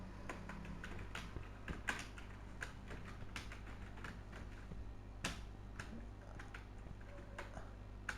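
Rapid, irregular keystrokes on a computer keyboard while code for a PL/SQL loop is typed, a steady run of close, crisp clicks over a low room hum with no talking.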